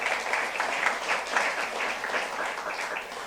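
A church youth service congregation applauds in a steady, dense burst of many hands clapping, evenly loud throughout with no talk over it.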